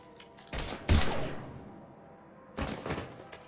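Gunfire in the video game Mass Effect 3. Two loud bursts of rapid shots crack close by, separated by a short lull with a faint electronic whine.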